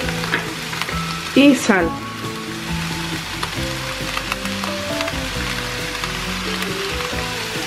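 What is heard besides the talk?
vegetables including broccoli being sautéed in a pan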